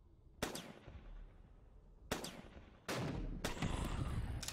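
Gunfire in Emerge: Cities of Apocalypse comes as a few sharp, loud single shots with decaying tails, then a sustained burst, up close and without speech.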